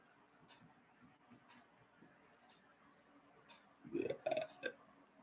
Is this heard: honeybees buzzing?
no